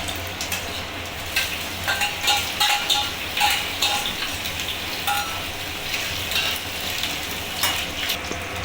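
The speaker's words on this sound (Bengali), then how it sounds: "আগে আমি এবার পেঁয়াজ আর ক্যাপসিকামগুলো কড়াইতে দিয়ে দেবো তেলে" Onion and capsicum fry in hot oil in a wok, a close, lively crackling sizzle with irregular bursts of spatter and occasional utensil clinks, steady for the whole stretch with no talking.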